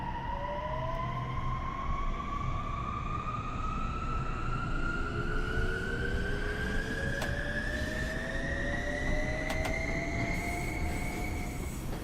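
Steady rumble of a train running in a snowy train simulator game, with rising tonal whines from the traction motors and rails, loud and continuous with no talking.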